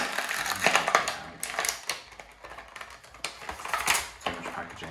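A Trolls World Tour figure is unboxed from its packaging, with irregular crinkling, tearing and snapping of plastic and cardboard in sharp bursts close by.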